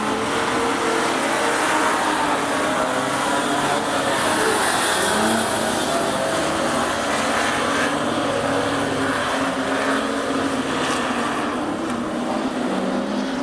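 Super Stocker race cars roar around Rockhampton Speedway in a steady, continuous wall of engine noise, several cars racing together at a distance with no talking.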